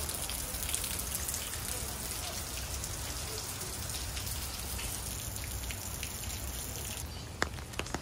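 Heavy rain pours down in Kuwait, a dense and steady hiss of drops striking surfaces that runs unbroken through the whole stretch, with a few sharp clicks near the end.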